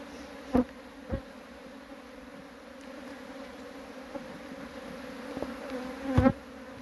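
Honeybees hum around an open beehive during a spring inspection, a steady close drone broken by a few sharp knocks and taps from handling frames, with no voices.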